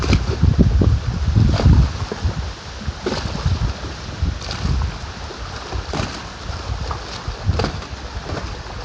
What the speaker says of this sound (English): But let the wind calm down.